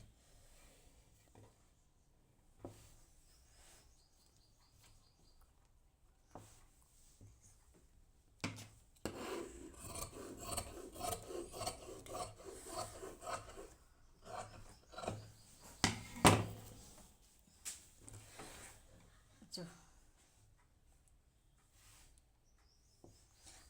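Scissors cut through cloth for a choli, making soft rubbing, snipping and scraping sounds. They are close and fairly quiet, with a busier stretch of cutting in the middle.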